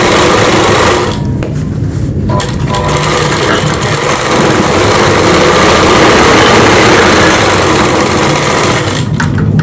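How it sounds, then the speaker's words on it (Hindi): A sewing machine runs loudly and steadily while stitching Rajputi kanchali fabric, a continuous whirring hum with only brief slight dips in speed. "ये देख कुछ इस तरीके से मैंने सिलाई लगा दी है।"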